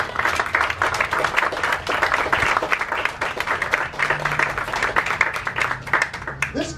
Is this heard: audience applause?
yes